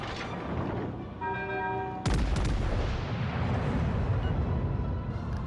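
Heavy naval guns boom in World of Warships Legends during a Graf Spee versus Dunkerque battle, with a sharp loud blast followed by a sustained rumbling roar over earlier droning engine and tonal effects.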